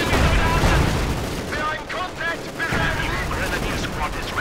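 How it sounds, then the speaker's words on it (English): A Panzer IV tank fires in a World War II–style video game, with machine-gun fire: a dense, loud rattle of gunfire and booming shots that continues without a break. "But now the Panzer IV setting up here to shoot and destroy it."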